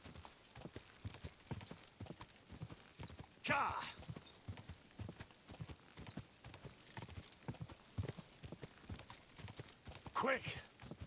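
Horse hooves clip-clop in a steady galloping rhythm through a medieval open-world video game, Kingdom Come Deliverance 2, close and continuous, with a couple of louder snorts or whinnies bursting out and speech over parts.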